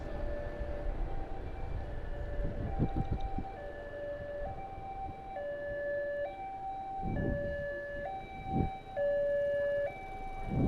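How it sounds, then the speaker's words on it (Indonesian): A railway crossing bell or warning signal alternates between two tones in a steady rhythm, with rumbling and passing noise from a nearby train underneath. "kita tepat bertemu dengan kereta api"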